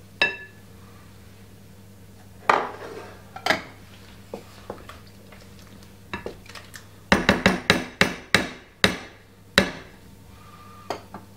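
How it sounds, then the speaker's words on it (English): Seven medium eggs cracked one after another into a bowl, sharp taps on the rim and shell knocks spaced out at first, then coming in a quicker cluster of crisp clicks near the end, close and clear with no talk. "Now, I have 1, 2, 3, 4, 5, 6, 7 eggs, which I'm going to put in the bowl."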